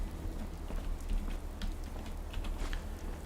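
Steady rain falls in the video game Fallout 4, a continuous hiss of drops spread evenly over the whole stretch, moderately loud with no voices.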